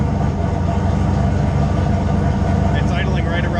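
Race car engine idling steadily near 1,000 rpm after a throttle stop adjustment, a dense continuous low rumble heard up close with no speech in the clip.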